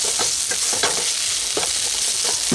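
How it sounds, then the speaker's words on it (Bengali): A spatula mashing cooked chickpea greens in a pan, giving soft repeated scraping and pressing strokes over a continuous bright sizzle. "একটু স্ম্যাশ করে নিতে হবে খুন্তির সাহায্যে এরকম করে।"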